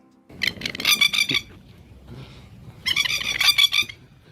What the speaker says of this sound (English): Magpies are not to be messed with.